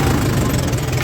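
A tractor engine runs at 1200 rpm in first gear while pulling a reversible mouldboard plough through a field, giving a loud, steady, continuous low drone with rough vibration throughout.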